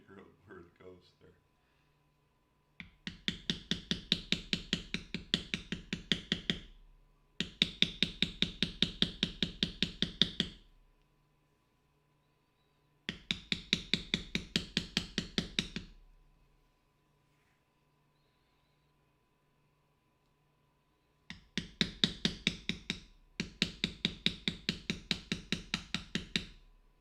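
A mallet taps a leather beveling tool during leather carving in fast, even strikes that come in four bursts of several seconds each, separated by quiet pauses, with brief talk at the start.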